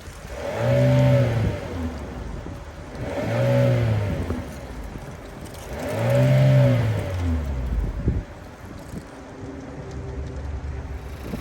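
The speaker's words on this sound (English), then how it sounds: "So let's take a listen to this exhaust." Three long, throaty revs from the dual exhaust of a 2022 Chevrolet Malibu RS with a 1.5-liter turbocharged engine, heard up close. Each rev rises and falls, then the engine settles to a steady idle.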